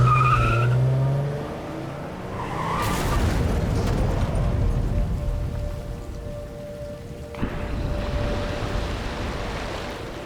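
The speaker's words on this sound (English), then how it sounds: "we hear James drive off into the Toluca Lake to kill himself." Car from Silent Hill 2 driving off into Toluca Lake in a game scene: a loud, sustained wash of rumbling engine and splashing water noise fills most of the stretch, easing off before a second surge near the end.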